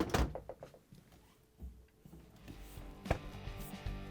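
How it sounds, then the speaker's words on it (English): Refrigerator doors and the mullion door on an LG/Kenmore fridge being shut after a door gasket replacement, giving a few soft thuds and clunks with a sharper knock near the end, close by in a quiet room. "now we can close the doors"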